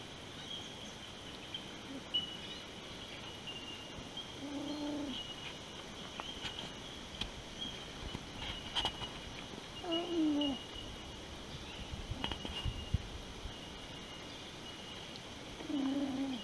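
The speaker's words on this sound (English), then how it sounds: "just loving the sound of these bellbirds. This has to be just the most amazing bird song ever." Clear, ringing bellbird calls sound intermittently every few seconds over a faint, steady background hiss, with scattered soft clicks between, on the Morelia Trail in D'Aguilar National Park, Queensland.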